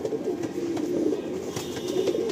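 Pigeons in a Park Circus, Kolkata loft coo steadily in a close, layered chorus of low throaty calls, with faint ambient noise and no talk.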